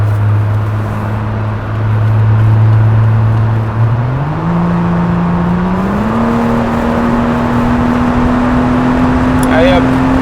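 BMW 535i Kelleners Sport accelerating on an open highway, a steady engine drone rising in pitch in two smooth steps under constant road and wind noise.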